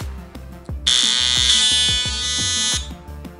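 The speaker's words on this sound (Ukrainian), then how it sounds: "Це був звук щітки." A Xiaomi Oclean X electric toothbrush gives a loud, steady high-pitched buzz lasting about two seconds, over a softer rhythmic background beat.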